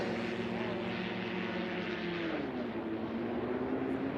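A propeller aircraft engine drones steadily nearby at a STOL drag race, its tone sliding downward midway as the propeller reverses pitch, with a constant roar throughout.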